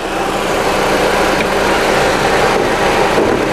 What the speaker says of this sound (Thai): นี่สตาร์ท ติดเครื่องอยู่นะครับผม